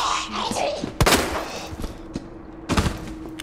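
Several sharp gunshots from the video game Resident Evil 2 Remake, two loud cracks about a second and a half apart with smaller pops between, set against game background sound and a little voice.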